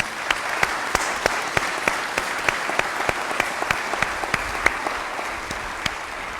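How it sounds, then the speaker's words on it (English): Applause at a military change of command ceremony, a crowd clapping steadily for several seconds, with some sharp individual claps standing out over the dense, even wash. "let's give those folks a round of applause"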